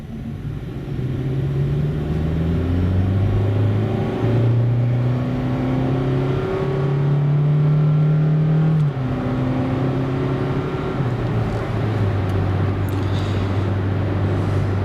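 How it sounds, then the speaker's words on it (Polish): A Honda Jazz 1.5 e:HEV hybrid revs hard and accelerates close by, its pitch climbing and dropping through several gear changes, loud and steady with no talking. "Teraz muszę ostrzej ruszyć, tak jak i ten pomad ruszał ostro."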